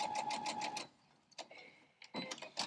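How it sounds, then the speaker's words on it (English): A sewing machine stitches down a fleece and flannel crumb block, making a quick run of close, rhythmic needle clatter followed by a couple of shorter, fainter bursts. "sew it down"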